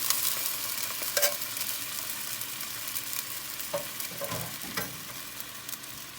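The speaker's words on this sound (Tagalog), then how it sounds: "Halo-haloin lang natin para matunaw ang gata." A spoon stirs coconut milk around tilapia in a pan, a soft simmering sizzle running steadily beneath a few distinct scraping strokes and clinks, with no voices.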